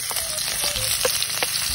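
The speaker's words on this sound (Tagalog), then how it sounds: "Magigisa na tayo ng sibuyas at bawang." Onion and garlic sauté in hot oil in a pan for Bicol Express. There is a steady, close sizzle throughout with a few light scrapes of stirring and no talking.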